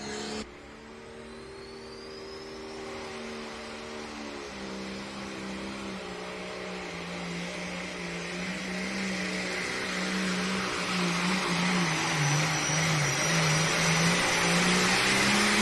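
Limited Pro Stock pulling tractor with a single turbocharger and 24.5-inch-wide rear tires runs on a test pull at a Rock Valley, Iowa tractor pull, a steady loud engine drone that climbs in pitch and grows louder through the clip, with no talk.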